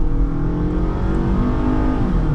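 The engine of a 2008 Toyota RAV4 revs hard under acceleration on a test drive, a loud, steady climbing drone heard from inside the cabin.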